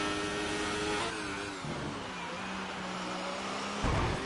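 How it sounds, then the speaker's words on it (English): A racing car engine whines and revs as the wheels spin in a racing video game at the Singapore Grand Prix, its pitch wavering and shifting, ending with a brief louder burst. "You can hear him spinning the wheels as he tries to get the power back down."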